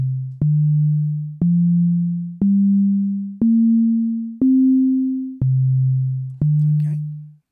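Sonic Pi synthesized sine tones, eight clean notes about one second apart, each starting with a click and decaying, stepping upward in pitch and then dropping back lower.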